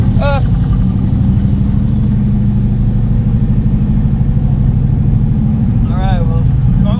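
A loud, throaty Corvette engine with exhaust idles and rumbles steadily nearby, with a couple of brief squeaky sounds over it.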